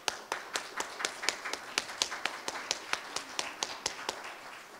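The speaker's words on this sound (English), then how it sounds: "So let's give Andrew Thomas a round of applause." Sparse applause for Andrew Thomas at a Los Angeles school board candidate forum, with individual distinct claps in a loose, fairly regular rhythm from a small audience, faint and somewhat distant.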